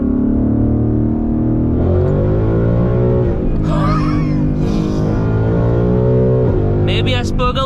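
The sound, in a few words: E85 Mustang GT accelerating at full throttle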